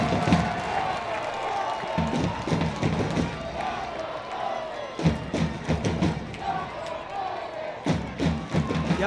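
A stadium crowd roars and cheers at a Chattanooga FC versus Huntsville City FC football match, a continuous swell of voices with sharp thumps and shouts, under a radio commentator's steady talk.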